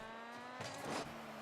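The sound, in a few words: person imitating a car engine noise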